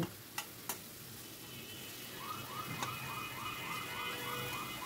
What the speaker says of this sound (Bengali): এবার খুন্তি দিয়ে চেপে চেপে ধরে টমেটোগুলোকে ভালো করে ঘেটে নিয়েছি এবং অনবরত খুন্তি নাড়াচ্ছি